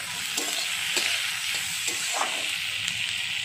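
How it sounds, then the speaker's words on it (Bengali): Chopped tomato frying with bottle gourd and shrimp in a pan, a steady sizzle broken by repeated scraping stirs at a loose rhythm, close and moderately quiet. "এবার এটাকে একটু ভালো করে নেড়ে নেড়ে আমি ভেজে নিচ্ছি।"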